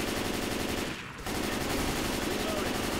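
Rapid automatic gunfire with explosive ammunition in a Left 4 Dead mod, a dense, loud stream of shots that breaks off briefly and then resumes.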